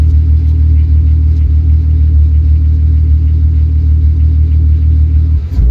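A VW VR6 engine idles loud and close, a steady low rumble with even throb throughout, a brief dip near the end.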